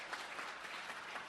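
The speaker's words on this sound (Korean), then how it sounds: "박수로 환영해 주시기 바랍니다." A church congregation at a Sunday worship service claps warmly to welcome a first-time attendee, a dense, even burst of applause from the whole room.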